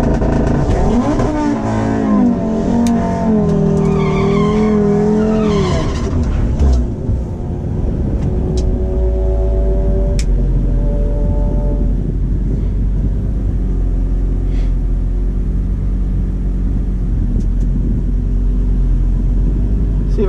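Audi RS3 with a Stage 2 tune launching hard at a drag strip, engine revving up through rising harmonics then roaring loud and close, fading into a steady rumble as the car pulls away.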